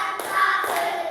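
A classroom of students claps together in a counted clapping chant, with two or three quick, crisp claps close by over a steady room hum.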